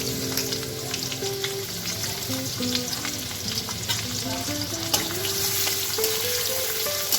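Chopped onion fries in a pan after the potatoes, a steady dense sizzle and crackle running throughout, close and continuous with no voices.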